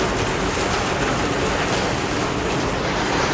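Loud, steady downpour of rain, a dense broadband hiss with a low rumble underneath, continuous and unbroken with no voices.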